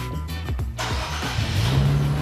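An Infiniti Red Sport engine starts and revs up close, a short burst of low growl that rises into a sustained, building roar.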